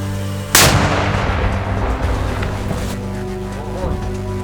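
A single loud artillery blast from a gun firing in combat in the Donetsk region, with a sharp crack, followed by a long rumbling decay, with a low engine-like drone underneath.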